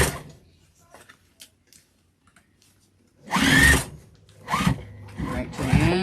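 A sewing machine back stitching a vinyl and cotton tote bag: after a quiet stretch with small clicks, loud rapid bursts of machine stitching run in short runs near the end, with a voice speaking over them.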